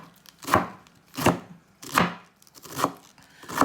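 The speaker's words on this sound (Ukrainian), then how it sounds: "нарізаємо трошки два листочки е, капусти, звичайно, брусельської" Knife chopping Brussels sprout leaves on a board for a vegetable soup, five evenly spaced, crisp chops about two-thirds of a second apart, close and fairly loud with nothing else heard.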